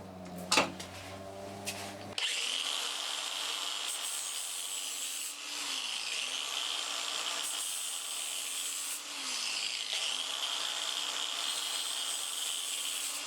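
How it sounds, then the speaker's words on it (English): An angle grinder fitted with a flat disc shapes the edge of a perspex sheet, a steady, loud abrasive whine and rasp running continuously for over ten seconds with slight dips in pitch as pressure changes, after a brief clamp clatter. "I'm going to use an angle grinder with a flat disc in"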